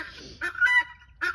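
Guinea fowl give loud harsh honking calls right up close by a house window, three raspy squawks in quick uneven succession, with no talk.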